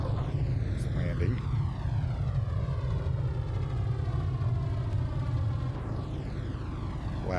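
A light aircraft lands in a flight simulator game at idle throttle, its steady engine drone and whirring propeller tone sweeping gradually in pitch, continuous and fairly loud with no voices.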